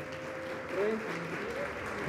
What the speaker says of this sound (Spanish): Un aplauso para el Grupo Yuca.